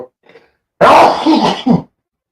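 A single loud, close sneeze bursts out after a brief quiet breath, ending with a short throaty tail.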